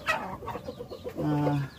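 Rhode Island Red chickens cluck and squawk close by, a burst of varied calls ending in a longer drawn-out cackle.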